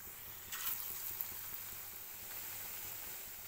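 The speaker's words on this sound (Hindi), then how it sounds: "इधर हमारा घी भी गर्म हो रहा है, उसमें इसको डाल के फ्राई करना है" Chana dal tikki frying in hot ghee gives a steady, soft sizzle with a brief brighter burst near the start, heard alone without talk.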